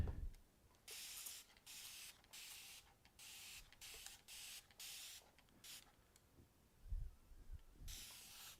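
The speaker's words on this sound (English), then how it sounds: "I'm going to spray it one more time," Water spray bottle misting a leather portfolio during tooling, a series of short hissing bursts, about ten in a row, fairly close and soft, with a few light handling bumps between.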